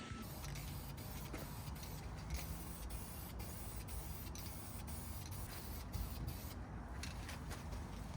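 A continuous hiss of spray painting a wheel up close, steady and airy, with faint rhythmic clicking and mechanical background hum.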